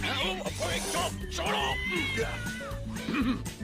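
A cartoon cat gives rising, wavering meows in a Hindi-dubbed Ultimate Spider-Man episode, mixed in with dialogue and background music.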